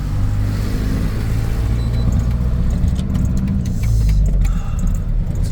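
A car drives steadily along the road on a long night drive home, a loud, constant low engine and road rumble with tyre noise filling the cabin, no voices.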